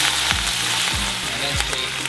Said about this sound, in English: Once your corn has become nicely brown, add soy sauce and mirin to the side of the pan.